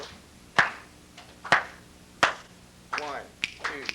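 Classroom students clapping a steady beat in 4/4 time, a few sharp claps spaced about a second apart that then quicken into a denser pattern, with speech cutting in near the end.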